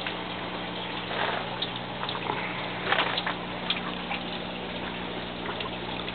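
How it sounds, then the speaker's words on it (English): Water leaks steadily from a vertical garden built from an IBC tote system, giving a continuous trickling, gushing wash with a few louder splashes. It sounds close and carries on without talk. "why is it leaking so much water?"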